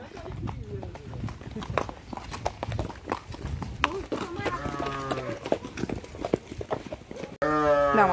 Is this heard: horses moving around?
yes